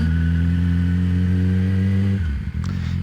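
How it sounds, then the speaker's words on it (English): A 600cc motorcycle engine with a full LeoVince exhaust holds a steady high-pitched rev with a raspy exhaust tone, then drops sharply back toward idle, loud and close. "This one's got this full pipe on it, full Leo Vinci exhaust."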